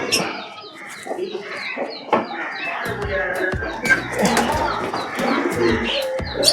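Katta Mooku Homer pigeons in a Pondicherry loft cooing and fluttering, repeated throaty coos and soft clucks with wing flaps and scratchy movement, fairly close and continuous.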